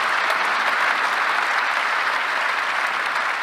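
An audience at a business and entrepreneurship talk applauds steadily, a dense, even wash of clapping holding at full strength throughout with no pause.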